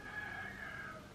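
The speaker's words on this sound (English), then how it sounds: "my rooster's right outside the window" A rooster crows just outside a window: one drawn-out crow, faint and somewhat distant, set against a quiet indoor background with no talking.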